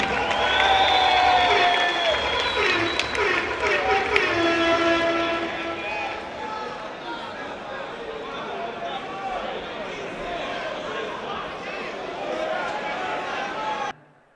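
A studio audience at a rap battle final applauds and cheers, with a broad wash of clapping and crowd noise beneath a loud voice that carries over it, fading out abruptly at the end.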